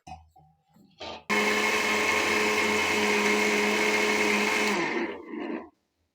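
A mixer grinder blends chutney with water, a loud steady whine running alone for several seconds after a few short starts, then winding down and stopping.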